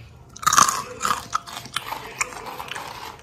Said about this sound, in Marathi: हे झाले क्रिस्पी कॉर्न करकरीत.